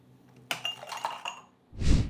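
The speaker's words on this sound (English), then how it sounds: "Now it's time to head over to the freezer to grab your ice cubes." Ice cubes from a freezer clinking into a cocktail glass while mixing a Mai Tai at home, a sharp knock followed by several close, bright clinks, then a dull low thump.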